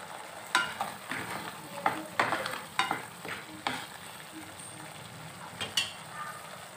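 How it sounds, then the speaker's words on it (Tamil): Masala paste with chillies stirred and fried in a pan for a South Indian breakfast dish, giving a steady soft sizzle with repeated scraping strokes of the spoon against the pan, close and moderately loud, with no talk. "நல்லா பச்சை வாசனை போகிற அளவுக்கு நல்லா கிளறி விட்டுக்கலாம்."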